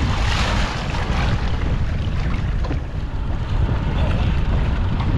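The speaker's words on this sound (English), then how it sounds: "she's windy, baby" Storm-force wind blasts steadily across the microphone, a loud continuous rush and rumble that barely lets up.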